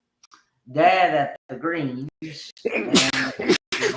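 A single sneeze bursts out amid lively conversation, with voices talking right before and after it.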